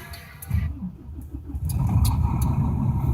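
An automatic-transmission vehicle's engine cranks with quick rhythmic pulses for about a second, then catches and settles into a loud, steady running rumble close by.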